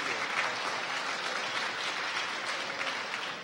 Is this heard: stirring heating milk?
no